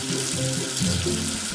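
Running water splashes and rinses steadily in a children's educational counting game, with a soft bubbling, gurgling texture throughout, close and moderately loud, with no voices.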